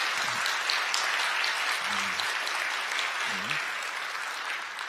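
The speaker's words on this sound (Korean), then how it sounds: "우리 두 분 인사할 때 환영의 박수 부탁드리겠습니다" A church congregation gives continuous, even applause in welcome during a Sunday service, the clapping filling the hall at moderate volume and tapering slightly, with a few low murmured voices beneath it.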